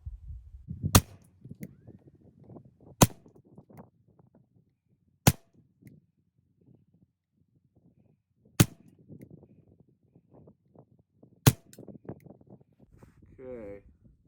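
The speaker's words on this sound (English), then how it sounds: "So we're going to send 5 rounds." A rimfire rifle fires five sharp, evenly spaced shots on a precision range, each crack loud and isolated against quiet background with soft talk and handling sounds between rounds.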